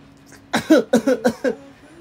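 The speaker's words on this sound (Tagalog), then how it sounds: "Parang ubo na yun." Five quick, harsh coughs in a row, close and fairly loud, followed by quiet.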